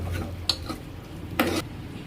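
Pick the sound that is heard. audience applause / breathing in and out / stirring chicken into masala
stirring chicken into masala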